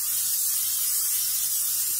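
Cooking spray hissing steadily onto a cake tray for an Oreo cake, a continuous close airy spray lasting the whole moment with no pauses.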